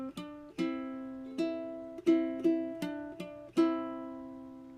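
Plucked ukulele notes played fingerstyle, opening of a carol: a slow melody of about nine distinct, ringing picked notes, each decaying, quiet and close with no voices.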